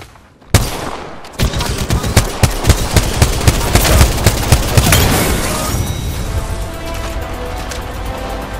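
Apex Legends gunfire: a loud opening crack, then a rapid run of close, punchy shots in steady rhythm that thins into a lingering rumble and fades toward the end.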